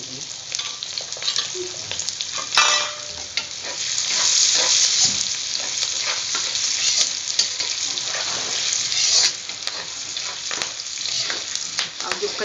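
Chopped garlic cloves and green chillies frying in hot oil for a bitter gourd curry, producing a loud, continuous close-up sizzle with crackling pops and faint stirring scrapes.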